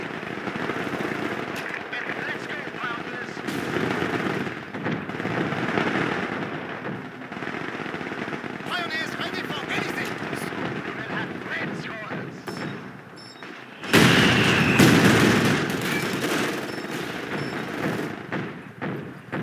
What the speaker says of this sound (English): A machine gun crew.